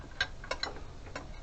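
A socket and spanner tighten a bolt during an alternator belt replacement on a Range Rover 3.9, producing a few faint, quick metallic clicks spread over a moment.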